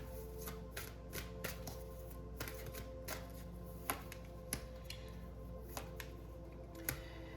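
Tarot cards are shuffled over a steady low background hum, with soft crisp card snaps and flicks scattered irregularly through the stretch, faint and close, no talking.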